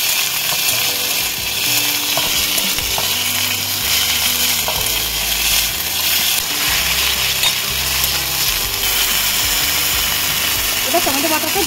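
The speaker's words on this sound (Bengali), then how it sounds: "ভালো করে ভেজে নেব।" Whole spices with garlic, ginger, green chili and dried chili pastes fry loudly in a pan for Bengali katla fish kalia, a dense continuous sizzle with scraping stirring and some mechanical clatter underneath.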